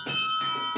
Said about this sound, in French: puisque nous l'a dit Vincent, on peut jouer tout ce qu'on veut sur un carillon.